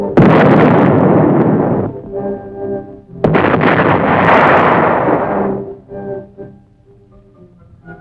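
Distant field artillery gun batteries firing, two heavy booming blasts a few seconds apart, each rolling out into a long rumbling echo that fades away, with no voices.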